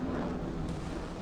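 A Saab Viggen jet fighter fires off missiles in a video game, giving a brief, loud, low rushing roar that fills the moment with no voices.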